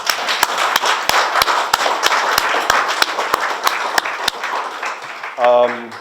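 Audience applause after a talk on architect Yasmin Shariff, a dense steady patter of many hands with a few sharp louder claps standing out, fading toward the end as a brief tonal sound enters.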